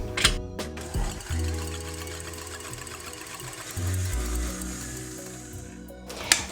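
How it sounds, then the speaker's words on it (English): Egg whites whisked for a honey cake give a steady, close, motorized whirring with rattling pulses that shift in pitch, starting and stopping abruptly at each end. "we're gonna whisk the egg whites"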